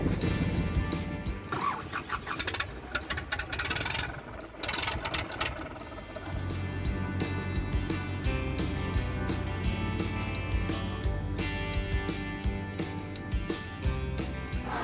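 Farm tractor engine cranking and catching after refuelling and bleeding the fuel system, then settling into a steady, loud, close idle that runs on with a rough, rhythmic rumble.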